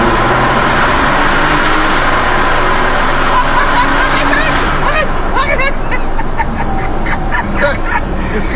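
A Porsche worth 500,000 euros roars loudly with a steady, broad engine rush that swells and revs, while men chatter excitedly over it.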